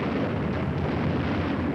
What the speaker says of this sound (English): Like just the explosions, you know, one after the other.